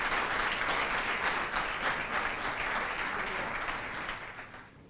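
Dense, steady applause from a studio audience on a French television singing show, sustained at full strength and then thinning out toward the end.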